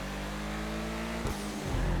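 A car engine in Grand Theft Auto V drones loud and continuous as the car accelerates, with a brief shift or stutter partway through and the revs climbing again at the end.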